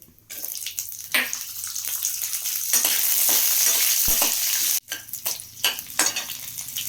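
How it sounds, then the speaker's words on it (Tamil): Mustard seeds spluttering with lentils frying in hot oil for a brinjal chutney, a loud steady sizzle with crackles and stirring clatter, briefly stopping before resuming in uneven bursts. "இப்போ பருப்பெல்லாம் நல்லா செவந்து கடுகு வெடிக்க ஆரம்பிச்சிருச்சு"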